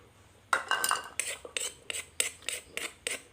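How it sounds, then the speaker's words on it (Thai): Mushroom chili paste is spooned from a mortar or pot into a bowl, heard as a quick run of close clinks and scrapes of a spoon against the dishes, about ten in three seconds. "เดี๋ยวผมจะตักใส่ถ้วยแล้ว"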